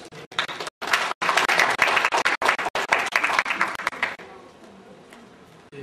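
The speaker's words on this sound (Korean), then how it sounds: "박수로 맞춰주시죠" An audience at a conference claps to welcome the SK Hynix speaker, a brisk, uneven run of close handclaps with short gaps that tapers off into quiet near the end.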